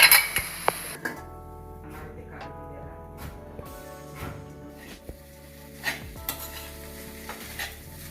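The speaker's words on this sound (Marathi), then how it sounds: "त्या थोडंसं पाणी टाकून आता परत एकदा हे परतून घ्यायचं" Wet corn kernel chivda is stirred in a kadhai after a splash of water, with repeated scraping strokes and a soft sizzle underneath, plus occasional metallic clinks of the spoon against the pan.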